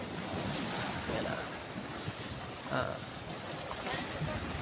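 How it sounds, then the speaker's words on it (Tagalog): Large ocean waves wash onto an island shore in a steady roar, mixed with wind buffeting the microphone and a faint voice in the background. "May sa dagat oh, yan oh. Malalaking alon oh"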